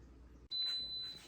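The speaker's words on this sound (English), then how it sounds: "we've got the beep saying that the time is up" An Instant Pot pressure cooker gives a single clear electronic timer beep, a steady high tone lasting just over half a second, fairly close and alone with no talk.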